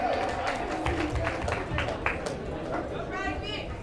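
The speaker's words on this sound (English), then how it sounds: "give a round of applause for Nick" Audience applause and cheering for comedian Nick Brewer at a stand-up comedy event, a steady wash of clapping with crowd chatter and a few shouts running throughout at moderate loudness.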